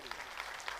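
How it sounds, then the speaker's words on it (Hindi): Short burst of audience clapping at a Hindi-speaking business training seminar, faint and brief, under a slight murmur. "क्या बात है, जबरदस्त ताली बजना चाहिए इनके लिए"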